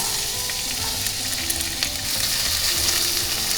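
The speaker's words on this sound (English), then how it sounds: "We're going to saute our onions." Onions sauté in a tablespoon or two of olive oil in a hot pan, a continuous close sizzle and crackle with occasional stirring scrapes and no talking.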